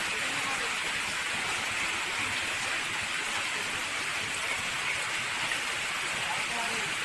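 Rain falls steadily outdoors as a dense, even hiss that stays constant and fairly loud throughout, with no breaks or distinct drops standing out.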